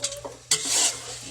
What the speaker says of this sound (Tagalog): Haluhaluan lang natin siya. Sama natin sa gisa yung ating hipon.